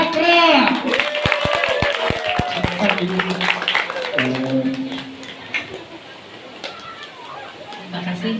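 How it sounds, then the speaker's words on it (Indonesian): Seminar audience giving a speaker a short round of clapping, a few distinct claps early that fade under a voice talking through the rest, with a murmur of others responding. "Tepuk tangan buat Ibu Ai Amira dari Cakra."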